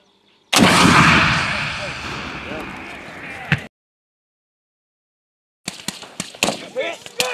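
Marines' live-fire explosives detonate on targets in Japan: a heavy blast with a long rumbling tail, then silence, followed by a rapid cluster of sharp cracks and bursts, loud and close.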